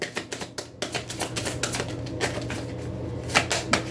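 Moonology oracle cards being pulled and shuffled from a deck, a rapid series of close, crisp flicking and snapping card sounds with no talk.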